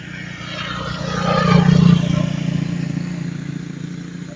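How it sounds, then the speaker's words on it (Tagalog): Several motorcycles pass along a road, a steady close engine drone that swells in the middle and stays loud, with a hint of nearby talk underneath. "Ito mga kamaster, ang daming motor eh"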